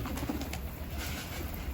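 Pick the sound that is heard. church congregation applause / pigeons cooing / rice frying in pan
pigeons cooing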